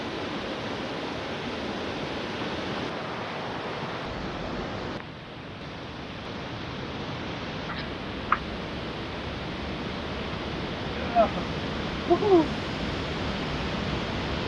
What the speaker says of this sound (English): it's got the waterfall next to it